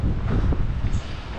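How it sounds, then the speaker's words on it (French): Wind gusting across an open farm field in cold weather, a steady broadband rush with low buffeting against the microphone, close and fairly loud throughout with no voices. "Oh, il y a peut-être un peu moins de vent là."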